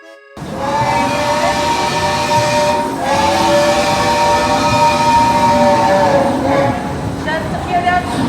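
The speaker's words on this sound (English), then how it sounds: "I can confirm that is in fact a train." A train rumbles steadily close by, with a sustained whistle-like tonal hum riding over the broad mechanical roar for the whole stretch.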